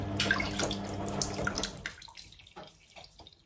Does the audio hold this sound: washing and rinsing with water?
yes